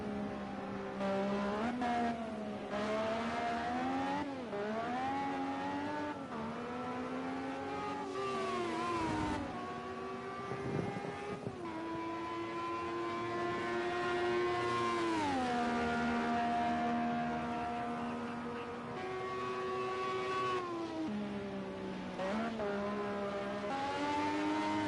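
A turbocharged historic Formula 1 car in a racing video game on the Hockenheimring, its engine screaming near redline with rising and falling pitch through gear shifts and throttle lifts, loud and continuous for the whole stretch.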